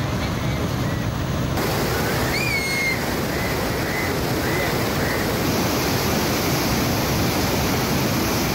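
Floodwater rushing as the Palkhu drain overflows from Chenab river flooding near Wazirabad, a dense, steady roar of churning water close by throughout, with faint bird chirps over the top and no speech.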